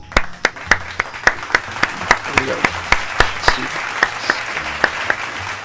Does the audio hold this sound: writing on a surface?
no